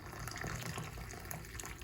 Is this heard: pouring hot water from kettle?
yes